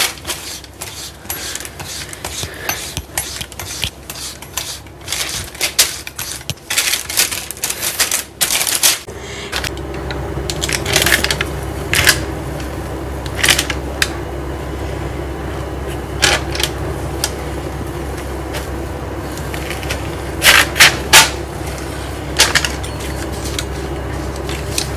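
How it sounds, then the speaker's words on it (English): Knife cutting a block of sesame and jaggery sweet into square pieces on a board, giving a long run of sharp, close chopping taps, dense at first and then sparser, with steady low background hum. "we will cut this into square pieces"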